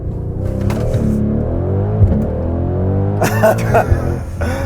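A 2019 Mercedes-AMG GLC63S engine launches hard under launch control, rising in pitch as the SUV accelerates and shifts, heard from the cabin with a loud, steady roar.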